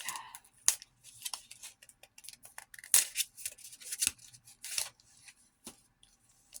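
A cutting tool slices open a Pokemon card pack, producing a string of short, sharp snips and crinkly plastic rustles, close up and irregular.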